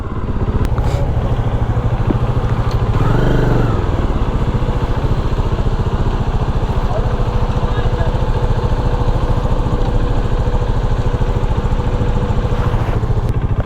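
Several motorcycle engines idle in a traffic jam on a dangerous mountain ghat road between Manali and Chandigarh, a steady close low rumble throughout with a brief louder rev near the start and people talking over it.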